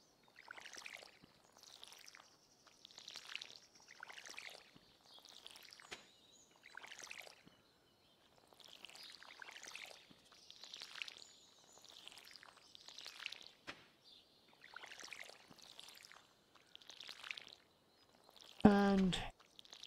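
Watering crops with a watering can in Stardew Valley: a series of short splashing pours, about a dozen evenly spaced bursts, faint and clear with no talking.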